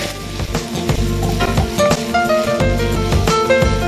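Ginger garlic paste frying with onions in a pan gives a steady crackling sizzle beneath loud rhythmic music with tonal accents, continuous throughout.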